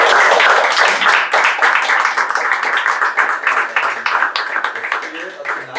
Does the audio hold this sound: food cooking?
no